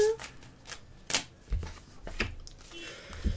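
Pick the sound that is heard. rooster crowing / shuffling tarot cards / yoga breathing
shuffling tarot cards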